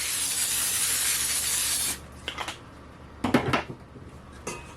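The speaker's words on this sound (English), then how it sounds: "I think I'm going to go ahead and spray this just to safeguard myself." Cooking spray hissing onto a baking pan for brownie batter, a loud continuous spray for about two seconds that stops abruptly, followed by faint clinks and handling noises of the pan.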